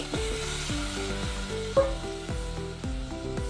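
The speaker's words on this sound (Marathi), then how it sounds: "आता ह्याच्यामध्ये आपल्याला जे आपण उकडलेलं मटण आहे ते आता आपण टाकून घ्यायचं आहे" Boiled mutton tipped into fried masala for a village-style mutton curry cooked over a wood fire, sizzling steadily with stirring scrapes and a brief louder burst partway through.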